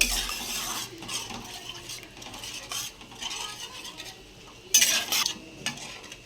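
Water goes into spice paste frying in oil for a tangra fish curry. Faint stirring clinks and a soft sizzle come first, then a sudden, loud hissing splash flares up and fades.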